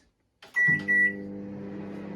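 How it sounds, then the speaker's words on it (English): A microwave oven heating chocolate in a mug: two sharp beeps as it is set, then a steady low hum of the running oven, close and alone. "So there's chocolate in a mug into the microwave for, I'll give that 1 minute"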